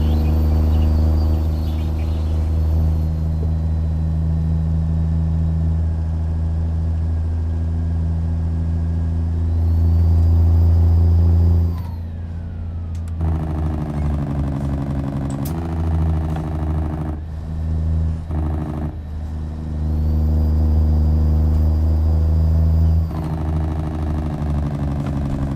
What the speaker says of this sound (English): You boys need the engine sound turning down a bit